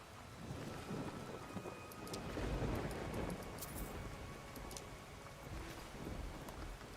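Steady rain falls in a Skyrim outdoor scene, a soft continuous hiss with light pattering drops and low rumbling underneath, even and fairly quiet throughout.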